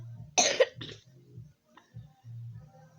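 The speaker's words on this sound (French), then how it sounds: "J'ai envie de tousser." A single sharp cough close by, followed by a second smaller cough and quiet throaty breaths.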